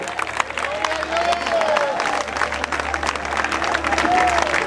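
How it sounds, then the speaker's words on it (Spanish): A church congregation at a revival service applauds, a continuous crowd clapping with scattered voices and a sung or shouted tone rising above it, steady and full throughout. "sigan aplaudiendo"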